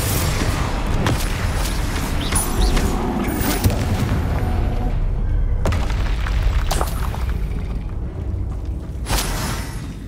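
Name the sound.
Hogwarts Legacy spell explosions, Confringo and Bombarder (video game)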